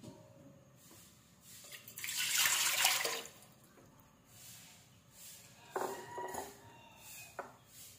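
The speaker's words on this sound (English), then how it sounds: "First, add water in a casserole." Water is poured into a metal casserole pot in the kitchen, a loud splashing burst in the middle framed by clinks and knocks of cookware, with no talking.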